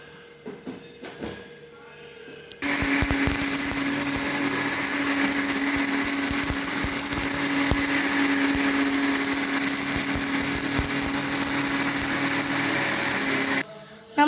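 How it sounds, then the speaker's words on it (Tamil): Loud, continuous roar of a mixer grinder blending a spice paste of chillies, shallots, curry leaves and turmeric with a cup of water, running steadily for about eleven seconds after brief handling clicks, then cutting off abruptly. "ஊற்றிட்டு இப்போ நம்ம திரும்பி அரைச்சிடலாம்."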